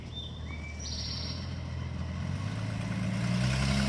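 A 1967 Mustang with drum brakes, back on the road after sitting for 22 years, approaching from a distance as its mid-range engine swells steadily louder, with birds chirping near the start.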